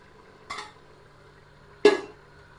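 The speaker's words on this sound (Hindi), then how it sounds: "अब हम इसकी थोड़ी तेज आंच करके हम इसकी भुनाई स्टार्ट करते हैं।" A spoon strikes and scrapes a pot of mutton stew being roasted in oil: two distinct metallic clanks, the second louder, separated by near silence with a faint steady hum, no speech.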